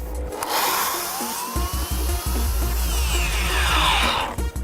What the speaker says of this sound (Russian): Нам надо отпилить вот эту ветку.